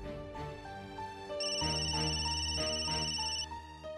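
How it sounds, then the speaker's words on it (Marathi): A mobile phone rings indoors, playing a melodic electronic ringtone that swells louder midway and keeps going without pause. "कधीचा फोन वाजतोय, उचलत का नाही आहात?"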